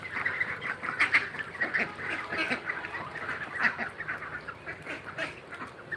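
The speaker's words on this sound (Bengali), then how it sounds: "এখন হাঁসগুলোকে খাবার দেব" A flock of farmyard ducks quack and honk repeatedly in a village yard after heavy rain, a busy overlapping chorus of nasal calls close by with no talking.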